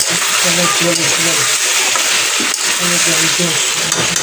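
Meat being sautéed (kosha) in a pan for Bengali home cooking gives a steady, close frying sizzle with scraping stirs, and a voice hums or talks faintly underneath.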